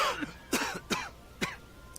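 Several short, dry coughs from a character in the video game Dragon Age: Inquisition, spaced unevenly over two seconds, fairly close and clear, with quiet background between them.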